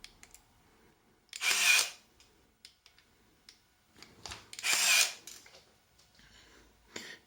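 A Zenit KM Plus film camera fires its motor in two short whirring bursts about three seconds apart, close and fairly loud, with faint clicks in between and no talking.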